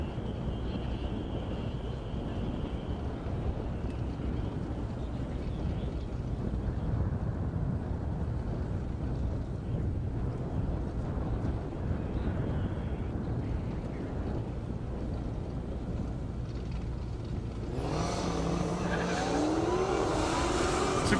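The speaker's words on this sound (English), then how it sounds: "Gustav in the Challenger, Jason Burrow in the Hellcat." Dodge Challenger and Dodge Hellcat drag racing side by side on a half-mile airstrip, a steady distant engine roar that grows louder and brighter near the end as the cars pass.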